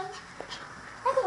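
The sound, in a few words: small dog whimpering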